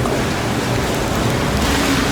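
Steady, heavy rain falls throughout on a hot day in Brazil, a dense continuous hiss with no pauses and no voices.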